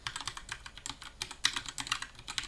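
Rapid, uneven keystrokes on a computer keyboard as a name is entered into a software field, close and fairly quiet, with clicks bunched in quick bursts and no talking.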